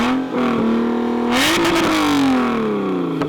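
A Lotus with a supercharged 3.5-liter Toyota V6 revs up close and loud. The engine note climbs, holds, then slowly falls back toward idle.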